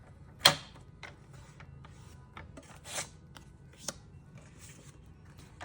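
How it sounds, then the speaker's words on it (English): Cardstock being scored along its length for a fold-flat card gives faint, scattered scrapes and light clicks, a few sharper ticks standing out from a quiet background. "This small piece I'm going to score on the long side at 1/2 inch"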